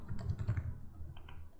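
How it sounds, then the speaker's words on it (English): Computer keyboard typing in a browser-based code editor, a short burst of soft, fairly quiet key clicks in quick uneven rhythm, fading slightly toward the end. "I can start typing it here"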